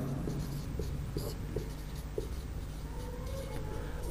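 Chalk or marker writing on a board during a physics lesson, soft scratchy strokes and taps in an uneven rhythm over a constant room hum.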